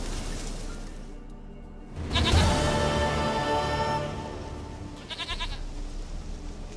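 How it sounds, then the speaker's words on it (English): A goat bleats in The Witcher 3, with one long, loud, wavering bleat close by and a shorter bleat after it, over a steady low ambient background. "Goat of mine, dearest, sweetest goat."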